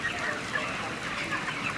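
Chickens cluck and chatter at a Portuguese industrial poultry farm raised for meat, a dense, steady flock noise with scattered higher calls carrying throughout and no voices.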